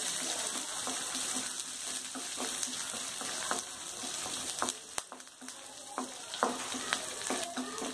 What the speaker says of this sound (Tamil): போட்டு நல்லா கோல்டன் ப்ரௌனாக வர மாதிரி வதக்கிடுங்க